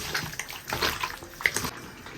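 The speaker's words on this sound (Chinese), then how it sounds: "一根肥肠，来点盐，加点白醋，先给它洗一下，抓一下，抓到你没耐心为止" Pork intestines are scrubbed by hand with salt and white vinegar, making close, irregular wet squelches and splashes in short bursts.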